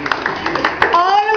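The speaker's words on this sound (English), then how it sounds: "Clap for yourselves." Students in an English class clap for themselves, a short burst of scattered, uneven handclaps with children's voices talking over the end.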